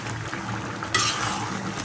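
Goat-meat curry frying and stirred in a pan with water and whole green chillies, a steady close sizzle with spoon scrapes that grows brighter and louder partway through.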